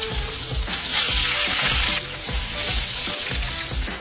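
A stuffed pumpkin flower fries in a little oil, giving a loud, continuous close-up sizzle and crackle with repeated soft pops throughout and no voices.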